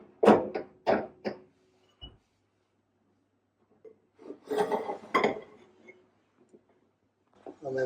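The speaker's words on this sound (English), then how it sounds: "the next thing then is to drop the locking bolt into position." A metal locking drop bolt is dropped into position on a MODE double gate frame, giving several sharp close metallic clunks and scrapes in two clusters with quiet gaps between.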